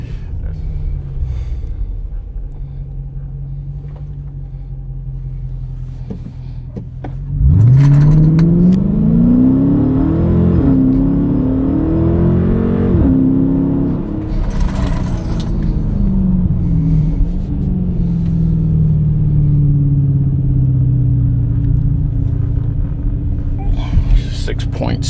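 Car fitted with a ported 87mm throttle body on dirt runs, idling low before roaring into hard acceleration with several rising gear pulls, then settling back to a steady rumble, close and loud.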